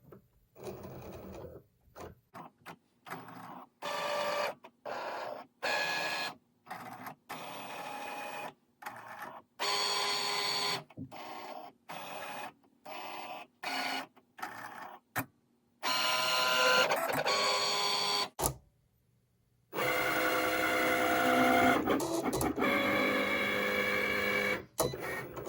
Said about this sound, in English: it will scan the black lines to sort of figure out where it needs to be cutting